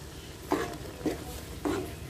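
Boiled potatoes and chickpeas for a village-style aloo chana chaat are tossed with red chili, sugar, chaat masala and salt, giving three soft, separate scraping strokes of stirring.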